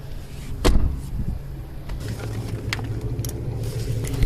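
Police search a car: a sharp door thud lands early, followed by scattered clicks, a whirring window motor and low engine rumble, with a few more knocks and bumps near the end.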